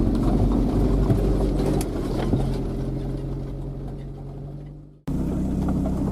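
UAZ off-road vehicle driving along an overgrown forest track, a loud rumbling engine with bumps and thuds that fades out near the end and then cuts back in abruptly.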